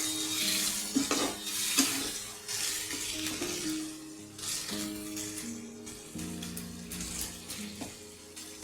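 Chicken curry meat sizzles and is stirred in a pan with salt, a continuous frying hiss broken by clinks and scrapes of a utensil against the pan.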